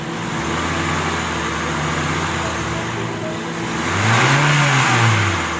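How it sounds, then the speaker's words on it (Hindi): A 2013 Honda City with an RPM fault and low pickup idles steadily, then its engine revs up and falls back near the end, a rising and falling mid-pitched roar over a constant hum. "रेस दो गाड़ी को।"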